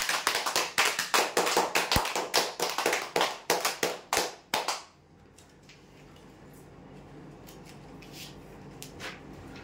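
Applause for the last ceiling fan prize winners at a weekly customer lucky draw, a burst of sharp close hand claps in uneven rhythm lasting about five seconds, then cutting off to quiet room ambience.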